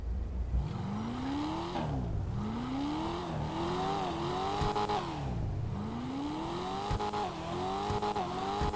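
Invetero Coquette D1 sports car in GTA Online starting up, then revving loudly several times in rising and falling sweeps, close and alone with no talking.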